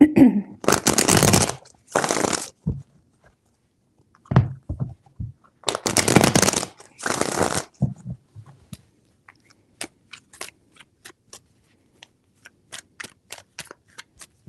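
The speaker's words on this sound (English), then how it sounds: "4 shuffles." Several bursts of cards being riffle-shuffled, each a dense rapid flutter, followed by scattered light clicks and snaps of cards being handled, close and fairly loud.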